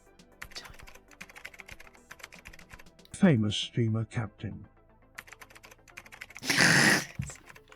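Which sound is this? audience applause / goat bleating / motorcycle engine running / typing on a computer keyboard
typing on a computer keyboard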